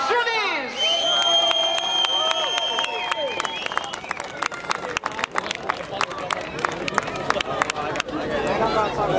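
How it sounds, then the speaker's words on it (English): Audience applause and cheering for the winner of the 61st class at the Coupe de l'Avenir 2018 event, a dense mass of clapping with whoops that carries on steadily at full loudness and thins slightly toward the end. "your applause for Yanis Raisunis"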